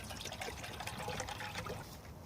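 Water trickles and pours into a metal canteen cup, a steady splashing dribble lasting a couple of seconds, close up with no talk.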